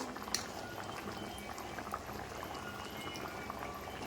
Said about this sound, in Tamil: குழம்பு கொதிக்கட்டும்.